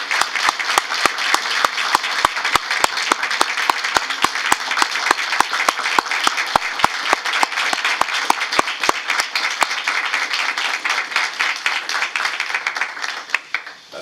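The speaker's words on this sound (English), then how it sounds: "May I have a warm round of applause for Angelo?" Audience applause at an NJ Transit board meeting, a steady round of many hands clapping close and loud for about fourteen seconds, tapering off at the very end.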